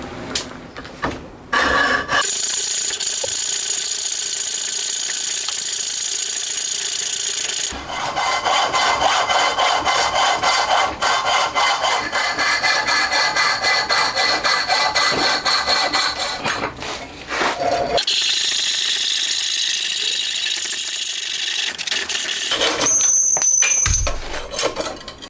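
An intake manifold for a Honda Monkey four-cylinder engine is sawn, long loud rasping strokes in steady rhythm with short pauses between bursts, close up, ending in a brief squeal and clatter.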